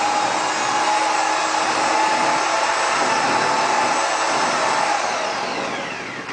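A mixer stirs hot pipe coating with a loud, continuous motor whir and a faint steady whine. It runs without a break and fades slightly toward the end.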